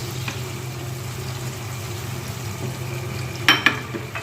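Tomatoes and salt are stirred in a hot pan: a steady low sizzle runs throughout over a faint hum, with two sharp spatula scrapes near the end.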